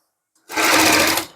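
A sewing machine stitches a facing strip onto a suit neckline in one short, fast burst of rapid mechanical whirring, close and loud, lasting under a second before stopping.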